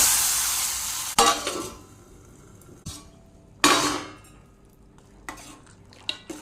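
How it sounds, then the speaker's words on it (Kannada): Oil with mustard seeds, curry leaves, dried chillies and asafoetida is tempered into a boiling brinjal saaru. Sharp sizzling bursts flare and die away several times, with close spoon clinks and stirring between them. "ಒಗ್ಗರಣೆಗೆ ಎಣ್ಣೆ ಸಾಸಿವೆ ಕರಿಬೇವು ಒಣಮೆಣಸು ಹಾಗೂ ಹಿಂಗನ್ನು ಹಾಕ್ತೇನೆ"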